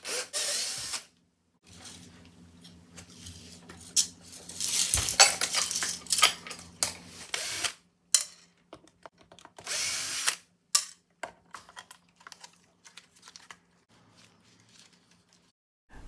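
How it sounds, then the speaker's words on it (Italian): Guitar strings being slackened and a neck and pickguard taken off an electric guitar on a luthier's bench: ratcheting tool whirs, sharp metallic clinks and rattles, and a low humming drone between bursts, all close and fairly loud with pauses. "allento le corde per smontare manico e battipenna"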